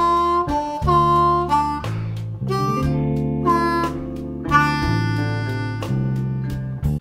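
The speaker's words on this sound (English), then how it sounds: "we're alternating between the 1 draw and the 2 draw whole step bend" A blues harmonica in third position plays a lick in the lower octave, alternating between the 1 draw and the 2 draw bent a whole step, with wavering, reedy notes in a loose rhythm and no talking.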